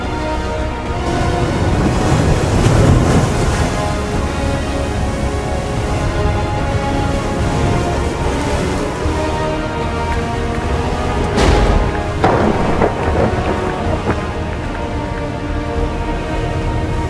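A storm at sea with steady, heavy rain-like hiss and wind, broken by a sharp thunder crack partway through and a lingering rumble after.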